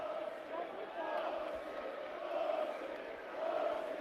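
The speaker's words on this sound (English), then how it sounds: "the crowd is chanting a word that we don't want to say at Jalen Benjamin" Basketball crowd at a Mount St. Mary's at Bryant NEC semifinal, chanting at player Jalen Benjamin: a distant, moderately faint, rhythmic roar of many voices with repeated swells.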